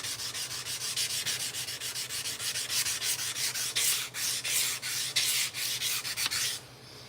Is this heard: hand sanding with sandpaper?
yes